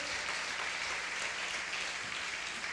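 A church congregation at a Sunday service applauds Jesus, a dense, even roar of clapping that fills the room without pause and stays steady and loud throughout.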